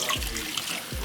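Water trickles and splashes close by as collard green leaves are rinsed in a kitchen, a brief continuous wash with no talking.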